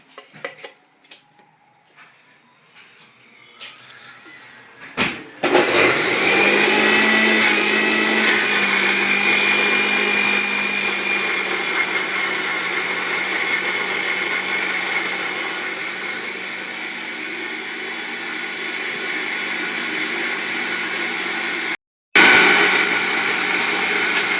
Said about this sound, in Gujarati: હવે તેને મિક્સરમાં ગ્રાઇન્ડ કરીશું